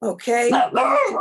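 A pet dog gives a few quick barks close to the microphone during an online commissioners' meeting, with a person talking at the same moment.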